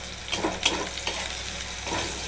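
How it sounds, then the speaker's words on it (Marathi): Okra and onion stir-fried in a pan, a steady close sizzle with the scrape and clatter of a spatula turning the vegetables, with no talking. "छान असं परतून घ्यायचं."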